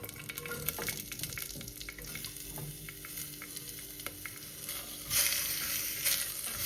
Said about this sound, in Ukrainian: Будемо смажити прямо в каструльці.